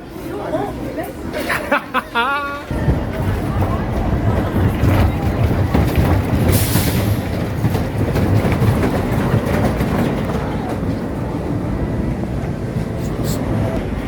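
Grand National wooden Mobius roller coaster at Blackpool Pleasure Beach, ridden from the back row: after brief clicks and a short voice, a steady loud rumbling, clattering roar of the cars on the track runs continuously with riders' chatter and shouts mixed in.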